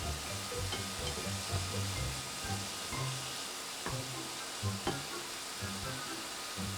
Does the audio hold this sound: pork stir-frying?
yes